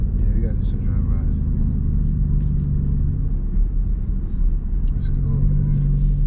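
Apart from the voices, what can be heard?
SRT Jeep Grand Cherokee engine during drive-by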